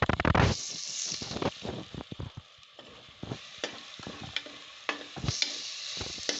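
Chopped onions frying in a pan for togarikaalu bhat, with a steady close sizzle and occasional scraping bursts from stirring throughout.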